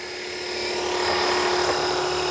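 Blade Eclipse 360 RC helicopter making a rolling landing, a steady high-pitched electric motor whine and rotor buzz that swells slightly and holds loud and close, with no talking.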